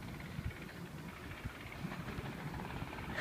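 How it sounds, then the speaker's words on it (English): A Sydney Waratah train set bound for Hornsby via the North Shore pulls into Waverton station, a steady low rumble of wheels and motors that holds at a moderate level for the whole stretch. "Hey, look, a Waratah."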